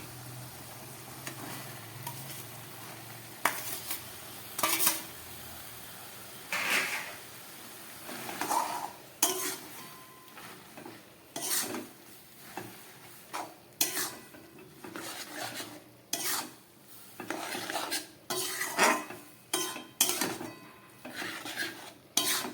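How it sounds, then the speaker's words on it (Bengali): Red lentils and pumpkin greens being stirred in a cooking pot, with repeated metal scraping and clanking of a utensil against the pot over a low background, in irregular bursts. "ডাল দিয়ে আর শাক দিয়ে খুব ভালো করে এটাকে মিশিয়ে নিতে হবে।"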